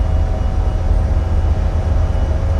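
Airliner jet engines in a flight simulator spooling up for a night takeoff: a steady, loud, low roar with a faint tonal whine on top, holding evenly throughout with no talking.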